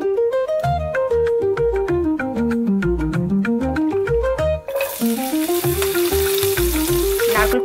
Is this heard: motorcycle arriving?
no